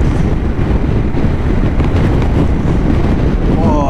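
Heavy wind buffets the microphone during a ride, a loud, continuous low rumble that fills the whole stretch and leaves nothing else clearly audible.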